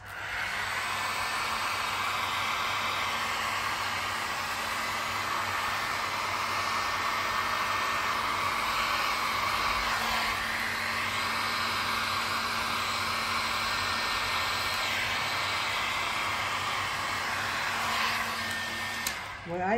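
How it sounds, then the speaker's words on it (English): Heat gun blowing hot air onto paint for a layered 3D bloom, a loud, steady, unbroken roaring hiss with a faint tonal hum underneath, close and continuous. "So just going to give it a little bit of heat to move."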